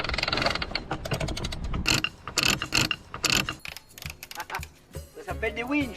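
A freshly greased sailboat winch turns with a rapid ratchet clicking and gear rattle, close and fairly loud, coming in irregular bursts of clicks followed by softer mechanical knocks and a brief creak.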